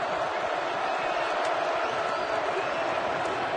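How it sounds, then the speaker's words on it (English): A split crowd of Florida and Georgia fans at a college football game makes a steady, dense roar that holds an even level throughout without clear peaks. "This is the first time we've had a split crowd, so you can actually hear some of the noise."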